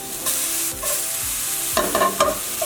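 Sausage spaghetti sauce with garlic, mushrooms, salt and black pepper cooking down in a pan, a steady close sizzle with a few brief clinks and scrapes of stirring near the end.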